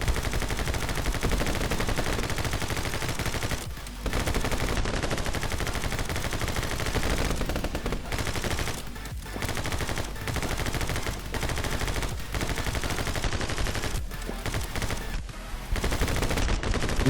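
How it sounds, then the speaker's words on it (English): Rapid gunfire from the banana boss wielding two big guns in the video game My Friend Pedro, dense bursts of shots running almost nonstop with brief gaps, loud and close. "He peels himself and brings out two big guns. Now he'll shoot at you."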